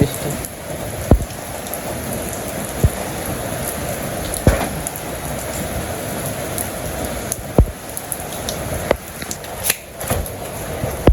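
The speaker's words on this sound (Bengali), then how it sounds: "খুবই সুন্দর বৃষ্টি হইল বৃষ্টি ভালোই লাগে" Steady rain falls on a surface as a constant near hiss, broken by occasional sharper drips and knocks.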